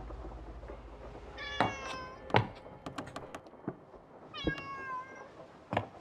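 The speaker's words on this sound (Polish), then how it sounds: "O, kot." Cat meowing inside the video game Rosemary's Fate, two clear drawn-out meows a few seconds apart, with soft thumps and taps in between and a brief third cry near the end, over a low background hum.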